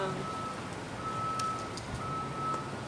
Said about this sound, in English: Sorry about the noise in the background. It's just kind of in the middle of the city here